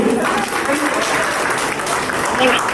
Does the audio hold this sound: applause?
yes